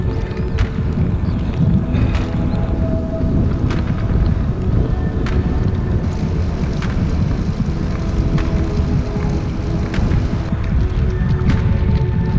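Wind buffeting the microphone on a spring bike ride, a steady loud rumbling roar throughout with faint gusting swells and no voices.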